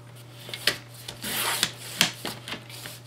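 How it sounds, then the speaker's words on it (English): A hand cutter trimming a small piece off a craft panel, close scraping and rubbing strokes punctuated by several sharp clicks and snaps. "let me grab my cutter. And I'm gonna cut about 1 inch piece off of here."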